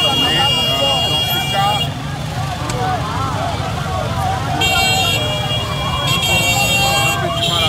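Presidential motorcade cars leave Kisangani airport in Tshopo province, sounding sustained horn blasts in two long stretches. Constant engine noise and crowd voices run underneath.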